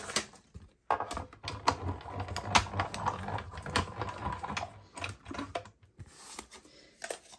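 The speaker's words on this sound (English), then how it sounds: "let's bring over our cut and emboss machine and we'll cut those things out" An electronic die-cutting and embossing machine cuts craft shapes with a scary silhouette die and a bat die, giving close, uneven clicking and rattling taps with short pauses throughout.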